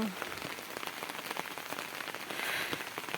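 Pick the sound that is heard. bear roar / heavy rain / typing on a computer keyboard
heavy rain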